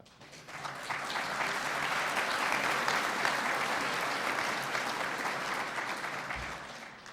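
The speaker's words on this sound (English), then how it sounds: "I was hoping there'd be some applause." A hacker conference audience at ShmooCon 2013 bursts into applause after opening remarks, a steady wash of clapping that swells quickly and holds at an even level for several seconds without talk.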